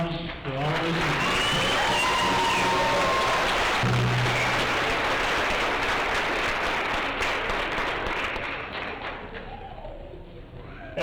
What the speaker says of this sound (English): one more round of applause for all of us